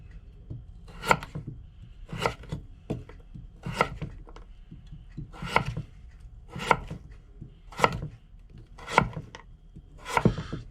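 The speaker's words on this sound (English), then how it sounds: "we're just going to cut these up into quarters, I think, at the moment for roasting, and put it into our roasting tin" Kitchen knife chopping a butternut squash into quarters for roasting aboard a narrowboat: about nine sharp, evenly spaced thuds on a board, close and fairly quiet, with no talk.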